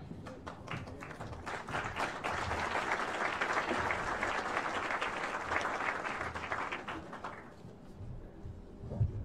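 Applause from the audience at a graduation ceremony for police investigation training course graduates, many hands clapping in a dense, sustained burst that swells and then fades near the end, heard from a distance.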